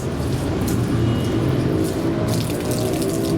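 Steady running tap water splashes continuously into a basin throughout, a constant close hiss with no pauses, heard during ritual washing before prayer in Karachi, Pakistan.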